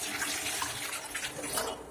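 Hot water pours steadily into a pot as a continuous, close splashing rush with no other sounds.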